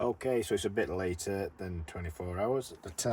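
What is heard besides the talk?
No everyday noise stands out behind the speech.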